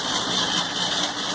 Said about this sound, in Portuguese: Ó, o motor girando